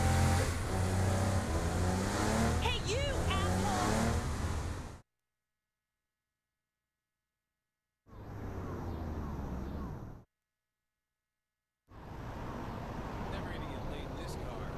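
A car engine hums and revs steadily while driving in the Saints Row: The Third video game. The sound comes in three loud stretches separated by silent gaps.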